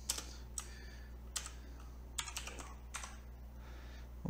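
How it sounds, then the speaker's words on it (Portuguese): Soft keystrokes on a computer keyboard come in sparse, irregular clicks over a steady low hum, quiet and close, with no speech. "Teclado"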